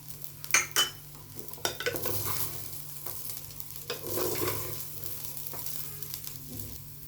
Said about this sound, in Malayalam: നല്ലോണം ഇളക്കി കൊടുക്കുക. നമ്മൾ എടുത്തു വെച്ച സ്പ്രിംഗ് ഇതിനും കൂടി ഇട്ടിട്ട് ഒന്നും കൂടെ മിക്സ് ചെയ്യുക.